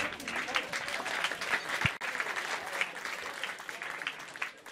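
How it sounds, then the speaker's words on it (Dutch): A crowd at a live election debate claps steadily and warmly throughout, a sustained round of applause with a brief dip near the middle. "Applaus voor deze mensen."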